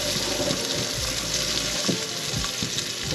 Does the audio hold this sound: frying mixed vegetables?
yes